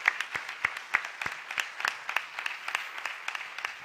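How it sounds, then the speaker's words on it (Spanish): Sparse applause from an audience at a national congress on entrepreneurship, employment and disability, honoring a university guest; distinct claps ring out steadily at moderate volume, with no voices over them. "Pues un aplauso."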